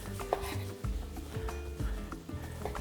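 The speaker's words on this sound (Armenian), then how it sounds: "Այսպես շերտատում ենք։" A knife slicing cooked beef on a cutting board for a beef and eggplant salad, giving a series of soft, irregular thuds and taps close by over faint background noise.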